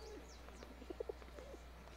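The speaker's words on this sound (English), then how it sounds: "Pigeons!" Pigeons cooing in the video game Sherlock Holmes: The Devil's Daughter, a few soft, faint coos and short calls over a low steady hum.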